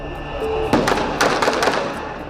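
A gunshot cracks out amid the chaos of an anti-tax protest in Kenya, a sharp loud burst followed by further bangs and jumbled crowd noise over a steady din.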